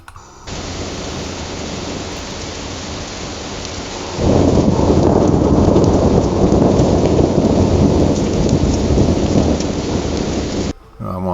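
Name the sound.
AI-generated thunder sound effect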